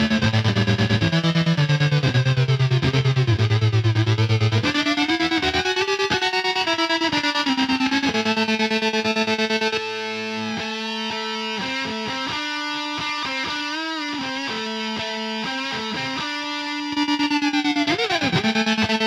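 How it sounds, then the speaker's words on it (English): An electric guitar played through a Swarm Fuzz pedal into a Dophix Galileo optical tremolo sounds loud and heavily distorted, with sustained fuzzy notes and sliding phrases that pulse and warble throughout. "So here's a bit of fuzz."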